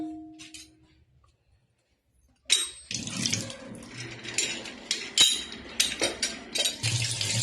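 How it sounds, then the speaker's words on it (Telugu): Water runs from a household tap into a sink after a near-silent start, a close, continuous splashing stream with occasional clinks. "నాకు నల్ల అనేది వాటర్ వస్తూనే ఉంటాయి"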